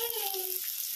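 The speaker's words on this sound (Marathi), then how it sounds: "आता कांदा टाकलाय, कांदा भाजून घ्यायचा आपण चांगला" Chopped onion sizzling in hot oil in a pan for masala Maggi noodles, a steady hiss with a brief tonal squeak at the start, close and alone.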